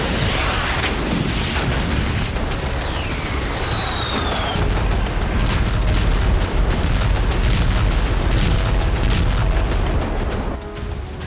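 Russian bombardment in Ukraine: a dense roar of heavy blasts and booms with sharp bursts and a brief rising whistle, loud and continuous, with rumbling low-end throughout.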